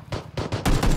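Rapid gunfire from a weapon in the PUBG video game, a quick burst of several loud, close shots in tight succession, with no voices.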